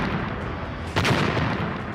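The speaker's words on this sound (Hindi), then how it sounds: "धमाके होते जा रहे हैं और नीचे जमीन पर आग के गोले बनते जा रहे हैं।" A Russian air strike explodes at the Azov plant in Mariupol, Ukraine: one heavy, close blast bursts out of a constant roar of rumbling noise.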